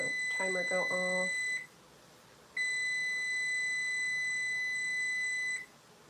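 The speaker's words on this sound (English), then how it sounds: "as soon as I start scraping this, I have the timer go off" A kitchen timer goes off during cake baking prep, sounding a steady electronic beep in two long sustained bursts separated by a short pause, with a brief voice at the very start.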